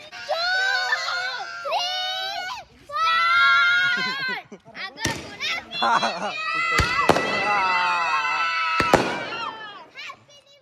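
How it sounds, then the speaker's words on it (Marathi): Sky shot fireworks launch for New Year celebrations, several sharp cracking bangs ringing out amid loud excited shrieks and children's voices. "आता स्काय शॉट आणलेले"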